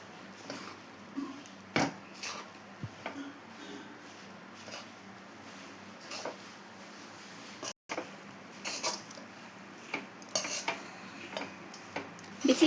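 Girmit, a puffed rice snack, being stirred into its sauce in a pan: soft scraping and occasional sharp spoon clinks against the metal, sparse and close, with quiet pauses between strokes.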